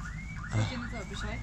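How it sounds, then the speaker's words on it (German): A car alarm keeps sounding nearby with a loud, repeating siren that sweeps up and down, heard alone with no voices. "Die Alarmanlage fuckt zu sehr ab."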